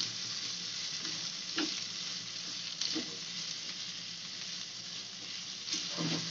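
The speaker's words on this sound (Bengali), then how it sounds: "এই মশলাগুলো দিয়ে একটু ভালো করে মিক্স করে নেবো।" Chilli paneer cooks in a pan with magic masala spices, giving a continuous sizzling hiss broken by several scraping stirs of the spoon, close and moderately quiet with no voices.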